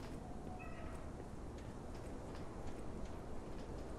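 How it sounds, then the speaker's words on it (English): Cats meowing in the video game Lies of P: one short, clear meow early on, set against a steady, noisy ambient background. "I hear cats."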